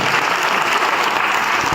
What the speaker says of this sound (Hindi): मैं चाहता हूं कि एक जोरदार ताली मोरल ग्रुप ऑफ कंपनी को बजाएं